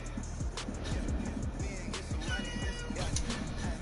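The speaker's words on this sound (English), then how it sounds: "Okay, cat, be quiet." A cat meows in the background of a busy game session, with steady game sound and a low, continuous rumble underneath.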